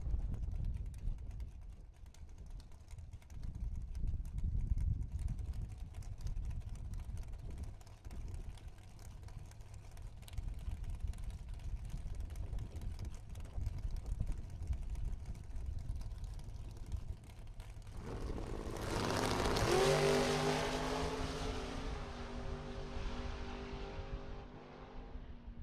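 Drag race cars launching and roaring down the strip at a Super Pro bracket event, a sustained loud engine drone from a distance that swells as they pass near the end, with crowd ambience.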